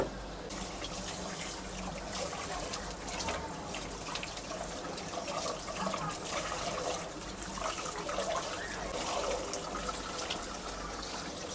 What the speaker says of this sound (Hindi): अभी हम पहले इसको पानी से धो लेते हैं।